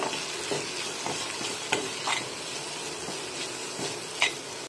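Tomato and spice masala with chilli powder, coriander powder and cumin powder is stirred in a pan for egg fried rice, giving a steady close sizzle with repeated scraping spoon strokes every second or so.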